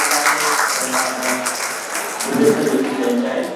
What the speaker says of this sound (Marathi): टाळ्या वाजवून या विद्यार्थ्यांचा अभिनंदन